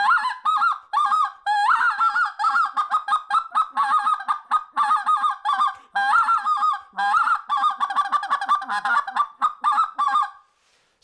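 A three-piece adjustable crane call is blown as a speckle-belly goose call in rapid, repeated honking bursts, close and loud, with brief pauses between runs of clucks and honks.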